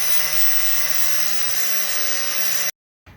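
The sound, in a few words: angle grinder grinding and cutting steel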